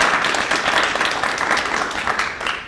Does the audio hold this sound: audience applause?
yes